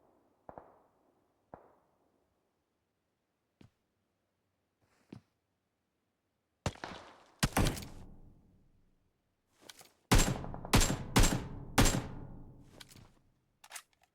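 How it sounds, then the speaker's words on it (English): Scattered gunshots in a PUBG Mobile battle-royale esports match: isolated single cracks early on, then heavier clustered bursts of rifle fire trading back and forth, fairly loud and without talk over them. "Blizz getting shot. Does return some fire."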